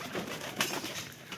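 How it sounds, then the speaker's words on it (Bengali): Pigeons eating maize from a hand make soft, close cooing and rustling, with one brief louder burst partway through. "আর এই খাবারের জন্য এই কবুতর আমার হাতে কিন্তু উঠতেছে।"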